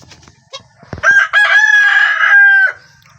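A rooster crows loudly and close by, one long sustained call, preceded by a few softer clucks and rustling.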